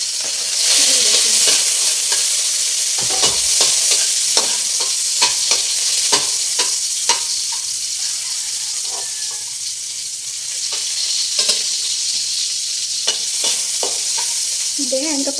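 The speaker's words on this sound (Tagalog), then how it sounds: "Pag ako nagigisa, sunod bawang." Garlic and onion sizzle steadily in a hot pan during a Sunday cooking routine, with repeated scraping and stirring clicks over a constant frying hiss, close and fairly loud.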